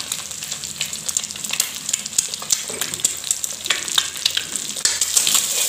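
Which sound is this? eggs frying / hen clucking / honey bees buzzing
eggs frying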